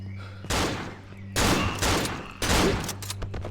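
A rapid burst of gunfire in the video game Cry of Fear fills the clip, with several loud volleys of shots and a steady electronic hum underneath.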